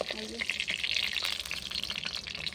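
Stuffed pointed gourd with a spiced gram flour filling frying in a pan on a clay stove, a continuous crackling sizzle heard close up while someone talks over it.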